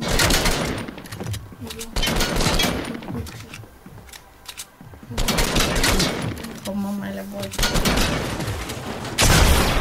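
Video game gunfire in a ranked match, dense bursts of rapid shots and booms in two loud stretches with a quieter gap between, while a player talks over the action.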